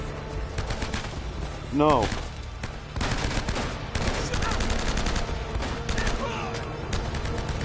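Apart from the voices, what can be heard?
gunfire in the video game Uncharted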